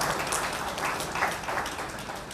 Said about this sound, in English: Can you all give them a round of applause